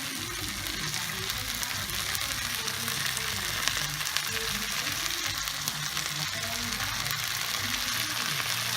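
Garlic and onion fry in a pan for beef stew, giving a steady, close hiss and crackle that continues evenly throughout, with faint clinks of stirring underneath.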